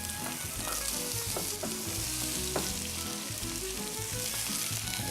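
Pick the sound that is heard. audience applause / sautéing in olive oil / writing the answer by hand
sautéing in olive oil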